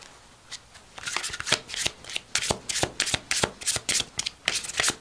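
Metatron oracle cards being shuffled by hand for a tarot-style reading, a quick run of crisp riffling bursts that repeat in a steady rhythm, close and fairly soft, with no voice.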